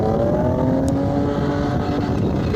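A Nissan Navara with a VG30 engine revs hard in second gear, giving a steady, loud droning roar with a slowly rising pitch, heard close with wind noise and no talk.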